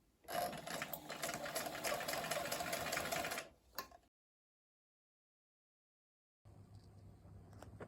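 A sewing machine stitching vinyl seat upholstery runs in a fast, steady stitching burst for a few seconds, stops with a click, then after a pause another quieter mechanical hum begins.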